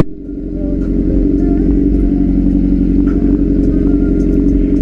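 A Honda CBR600RR sport motorcycle's engine rumbles loud and close, revving up and holding a steady, throaty drone.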